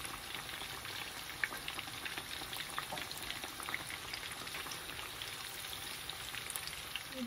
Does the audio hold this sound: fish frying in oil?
yes